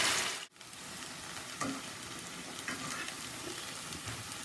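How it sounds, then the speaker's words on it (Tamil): Cauliflower pieces deep frying in hot oil for cauliflower 65, a steady dense sizzle close by with a brief dip early on and soft clinks of stirring, no voices. "இப்போ இதையும் அது மாதிரியே இப்போல்லாம் ஒவ்வொன்றா போட்டு பொரித்து எடுத்துக்கோங்க"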